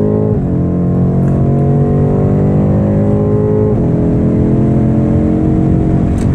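A 2019 BMW M850i pulls out onto the Daytona tri-oval, its engine droning loud and close with rising harmonic pitch sweeps as it accelerates through gear changes, heard from inside the car with no talking.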